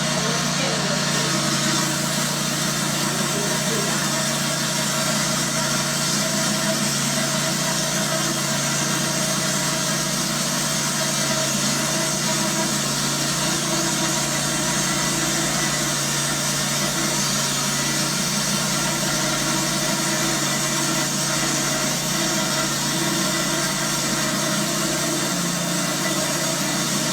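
A hydraulic saw with a bandsaw-style spinning blade runs continuously, giving a loud, steady mechanical drone and hum for the whole stretch, with voices talking over it.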